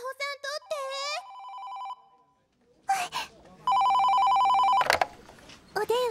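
Telephone ringing in a Japanese railway company's office, repeated electronic ring bursts alternating with a child-like voice speaking between rings.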